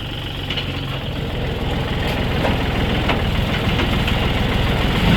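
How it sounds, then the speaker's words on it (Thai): A Kubota L3608DT tractor diesel runs steadily with its rear PTO engaged, a continuous close rumbling drone with a faint knocking texture that holds even and slightly builds across the stretch, with no talking. "โอเคปั่นท้ายทำงานปกติครับ"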